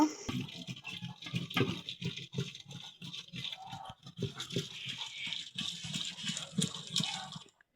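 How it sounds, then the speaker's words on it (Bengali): Boiled lentils being mashed in a pot with a bamboo-root dal masher, a close, wet, rhythmic squelching and thudding that repeats steadily throughout, with no voices. "এখন আমি ঘুটনা দিয়ে ডালটা ঘুটে নিব"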